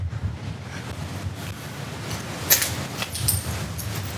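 Strong wind buffets the microphone at an abandoned seaside hotel in Croatia, a steady low rumble with gusts that swell louder near the middle and toward the end, no voices present.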